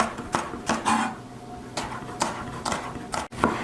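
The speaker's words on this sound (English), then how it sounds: "we're just going to rough chop this" Rough chopping of salad vegetables such as cucumber on a cutting board, a series of about eight close, irregular knife thuds against the board.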